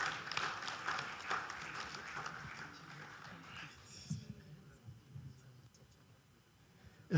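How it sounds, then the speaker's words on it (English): A forum audience applauds as a speaker walks to the stage, with a busy patter of clapping mixed with faint voices. After about four seconds it dies away into a quiet murmuring room. "Please keep clapping while he makes his way to the stage"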